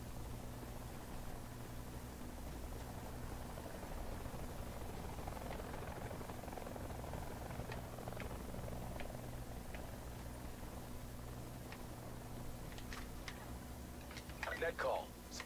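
Faint, steady droning hum of a helicopter in Call of Duty: Black Ops 4 Blackout, continuous throughout, with a few soft clicks near the end.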